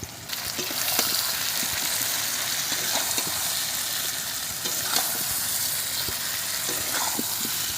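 Potatoes and onions sauté with salt, turmeric, ginger-garlic paste and chili powder in a pan for a snakehead fish curry, giving a steady close sizzle and frying hiss with occasional stirring scrapes and clicks throughout.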